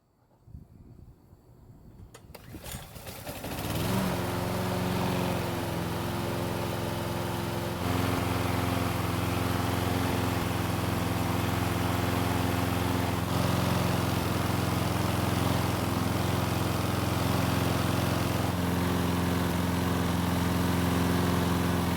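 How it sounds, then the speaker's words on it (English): A Toro lawn mower's small engine cranks over and catches within a few seconds, then runs at a steady, loud idle without surging. No voices are heard. "So the engine started just like it did before, and luckily it seems to not be surging either"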